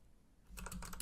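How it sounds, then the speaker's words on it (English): Quick burst of typing on a computer keyboard, a short run of close, crisp keystrokes that starts after a brief quiet moment, with no voices over it. "What else should I try typing in?"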